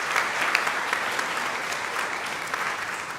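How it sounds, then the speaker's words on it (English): A congregation at a worship service claps steadily throughout, a full, even wash of many hands from a moderately close room with no talking over it. "So can we give Ruth a round of applause"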